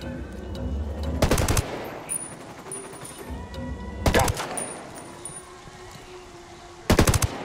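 Automatic gunfire in the video game Ghost Recon Wildlands comes in three sharp, loud bursts of rapid shots spread apart, with quieter game ambience between them and a brief spoken line.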